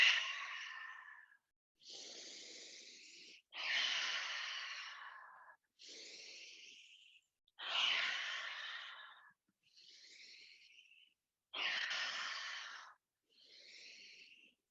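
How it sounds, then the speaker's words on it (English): A person exhales repeatedly through an open mouth with a breathy "ha" sound, eight separate airy breaths spaced by short silences, close and clear, some stronger and longer than others. "start to open your mouth and make that ha sound"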